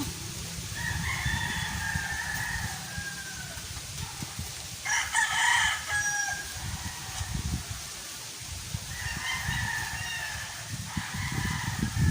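Chickens cluck and a rooster crows several times, fairly close, over a steady low rumble of background noise.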